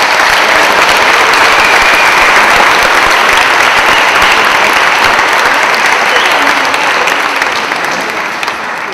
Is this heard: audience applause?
yes